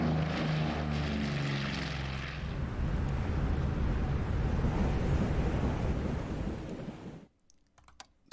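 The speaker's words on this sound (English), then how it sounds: "Incoming Japanese planes." Propeller aircraft engines in the Coral Sea Order of Battle game, a loud steady droning roar with a pulsing low hum at first, fading out near the end with faint clicks.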